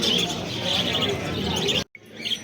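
Caged lovebirds and conures at a busy outdoor bird market chirp constantly in a dense, shrill chatter, with voices of people talking mixed underneath and a brief drop near the end.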